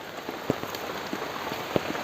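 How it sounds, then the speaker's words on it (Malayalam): Steady rain patters on a surface, with occasional sharper drops landing close by; no voices. "അപ്പോൾ മൊത്തം മഴയാണ് എല്ലായിടത്തും"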